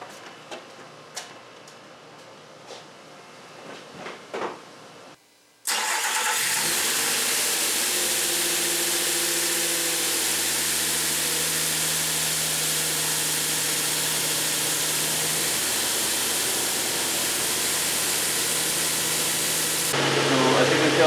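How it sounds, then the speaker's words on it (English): A few faint clicks, then a car engine cranks and catches, settling into a loud, steady close-up idle that rises slightly at the end. "So as you can tell, the engine runs perfect."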